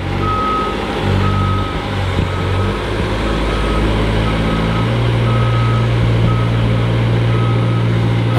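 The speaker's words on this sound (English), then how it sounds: "The truck has arrived, so he's just going to use the forklift and bring the bags to the backyard." A heavy delivery truck reverses, its backup alarm beeping in a steady repeating rhythm over a loud, continuous diesel engine rumble, close by and without voices.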